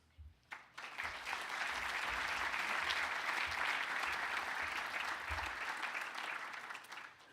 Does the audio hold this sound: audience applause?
yes